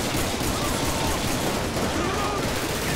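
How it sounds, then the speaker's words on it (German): Dense video game gunfire, a continuous clatter of overlapping shots at steady loudness with no clear pauses. "die Schüsse, ey, wie laut die sind"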